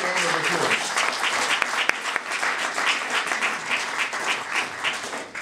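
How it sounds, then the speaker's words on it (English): A crowd at a National Secular Society award presentation breaks into applause, a loud, even roar of many clapping hands lasting several seconds, with a brief voice audible at the very start. "I would just like to give him a quick round of applause"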